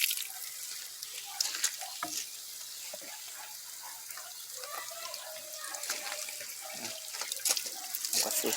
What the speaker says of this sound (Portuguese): Água suja saindo aí, ó.